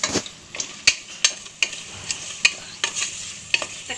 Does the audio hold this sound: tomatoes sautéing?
yes